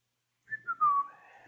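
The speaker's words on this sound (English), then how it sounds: "Whistling away." A person whistles a short tune, a few brief notes followed by a longer sliding tone, soft and close.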